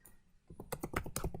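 Quick keystrokes on a Windows 10 computer keyboard as a Python command is typed, a close, irregular run of clicks that begins after a brief quiet stretch.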